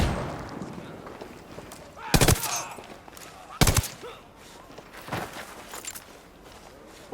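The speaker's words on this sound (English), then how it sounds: "Hey, throwing a flashbang." Flashbang and gunfire in the video game Ghost Recon Wildlands: two sharp, loud bangs a second and a half apart, followed by scattered shots and movement sounds at moderate distance.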